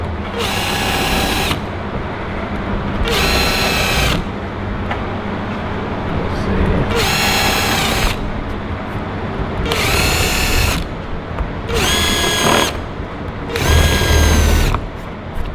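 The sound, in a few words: drilling holes for Challenger front splitter rivet nuts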